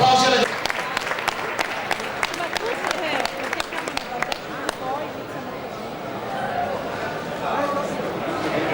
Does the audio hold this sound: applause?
yes